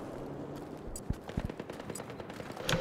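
Gunfire rings out in a multiplayer shooter game, a scattered run of sharp shots and short bursts, mid-distance and moderately loud, with no talking.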